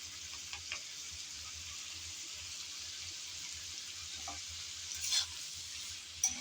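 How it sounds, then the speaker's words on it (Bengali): Ginger garlic paste fried and stirred in a pan: a soft, steady sizzle with occasional light scrapes and a brief clatter near the end, quiet and without speech. "আদা আর রসুন বাটা দেওয়ার পর আবারও নেড়েচেড়ে ভালোভাবে কষিয়ে নিতে হবে"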